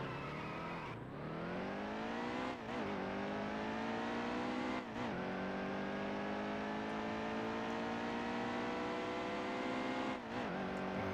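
A NASCAR race car in NASCAR Heat 2 revs hard through the gears, its engine pitch climbing and dropping at each shift in a steady loud drone, with no talking.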